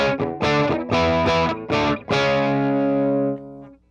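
Electric guitar played through a DIY volume pedal with a boost circuit, giving a cleaner tone: several strummed chords in a short choppy rhythm, then one chord left to ring and fade, loud and upfront with no talk.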